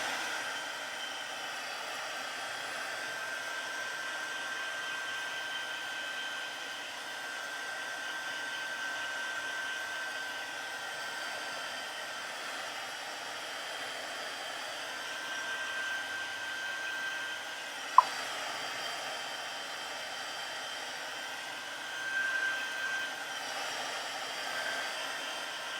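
A heat tool melts embossing powder on a handmade card to create a tarnished foil effect, giving a steady, fairly faint whirring blow that runs unbroken throughout, with a single sharp click partway through.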